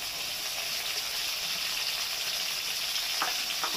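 Onion, ginger and green chili paste fries with tomato in a pan, giving a steady broadband sizzle that holds evenly throughout with no talking.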